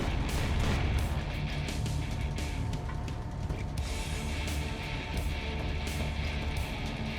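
Plasma weapon fire from a hovering drone in the action platformer Valfaris, a dense, harsh mechanical grinding and crackling that runs loud and steady throughout, with sharp bursts mixed into the clatter.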